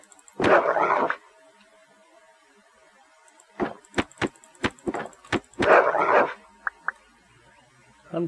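Dogs in the video game Keplerth let out two loud close barks separated by a run of sharp rhythmic clicks and short yips, with quiet gaps between bursts.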